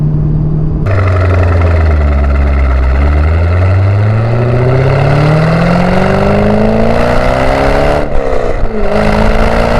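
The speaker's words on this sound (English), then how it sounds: "At all times, you're reminded of just how good the engine sounds." A C5 Corvette sports car engine revs loudly and close up, its pitch dipping and then climbing steadily as it accelerates, with a brief stumble near the end.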